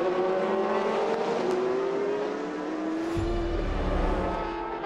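GTE Pro race cars in the FIA World Endurance Championship blasting down a straight, engines loud and close with rising and falling pitch as they run out of road and one passes, ending in heavy low rumble.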